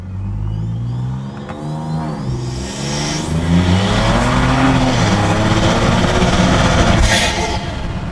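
A Ford Ranger Raptor pickup's engine revs hard and climbs through the gears, roaring steadily close by, with a brief sharp whine near the end and no voices.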